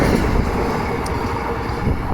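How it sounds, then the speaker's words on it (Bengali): A train passes through Kanaibazar railway station, a steady loud low rumble of wheels and cars holding constant throughout with no talk. "ট্রেনটা ক্রসিং করছে আপনারা দেখতে পাচ্ছেন ভিডিওর মাধ্যমে"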